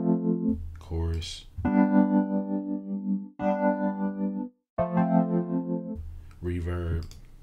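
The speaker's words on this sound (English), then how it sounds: "Chorus." Chords from a Waves software electric piano ring out with a shimmering, slightly doubled chorus tone, several sustained chords separated by brief gaps, with a spoken word at the start.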